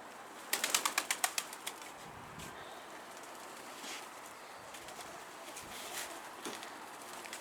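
A brief burst of wings flapping as birds take off, a quick flurry of wingbeats, then quieter rustling and faint bird movement in the open air.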